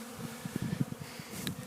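Honey bees hum at a sugar water feeder in winter, a faint, close buzzing with short, uneven swells as individual insects pass, and no voices.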